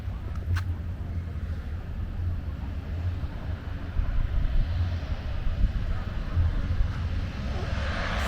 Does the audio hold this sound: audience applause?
no